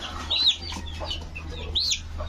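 Chicks in a poultry-rearing setting give two bright, high cheeping peeps about a second and a half apart, close by against a steady low background hum.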